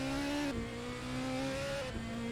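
A race car in a racing video game slides off under braking at a Spanish circuit. The loud engine note drops in pitch as a brief tire squeal cuts in, then the engine runs on steadily.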